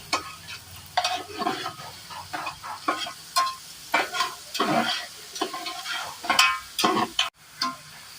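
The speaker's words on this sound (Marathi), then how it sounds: "कांदा लाल झाला का त्याच्यामध्ये टोमॅटो टाकायचे" Onions and tomatoes cook in a pan, with a low sizzle beneath repeated scraping stir strokes that come in irregular bursts at close range and moderate loudness, with no voices.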